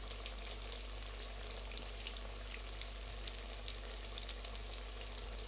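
Onion pakoras fry in hot oil with a steady, soft sizzle and faint pops, continuous and close, with no voices over it.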